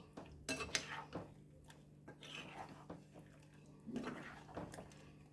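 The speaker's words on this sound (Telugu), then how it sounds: "ఇప్పుడు దీని మొత్తాన్ని మిక్స్ చేసేసుకోవాలి" Metal spoon clinks and scrapes against a cooking pot as mustard paste is stirred into a curry, with scattered clatters and quieter stirring between them at close range, with no talk.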